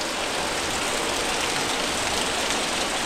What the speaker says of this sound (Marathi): जाम पाऊस पडतो गावी